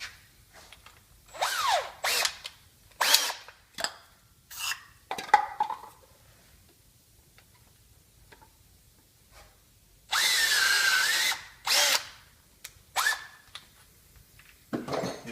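A power drill whirs in a series of short bursts, then one longer steady run, close by and loud against near silence, drilling out a thread with a BMW thread repair tool.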